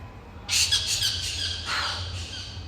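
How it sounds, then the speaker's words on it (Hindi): Bat calling at night, a harsh squawking burst that starts suddenly and repeats in rapid rough notes for about two seconds, fairly close over faint background hum. "ये बैट है, बैट की आवाज़ चमगादड़।"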